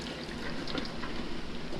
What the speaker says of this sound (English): So just dump it in through the strainer and allow the water